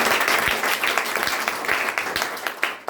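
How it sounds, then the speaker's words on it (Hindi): Audience applause at a toppers' award ceremony, a short burst of loud clapping from a crowd that tapers off over about three seconds. "एक जोरदार ताली बनती है।"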